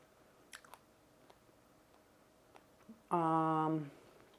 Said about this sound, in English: And this is chewy. Like crunchy and chewy.